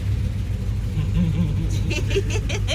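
Car with a family riding inside, a steady low engine hum and road rumble close around the cabin, with voices chattering over it.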